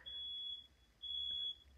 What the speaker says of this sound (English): the fire alarm is going off in my house right now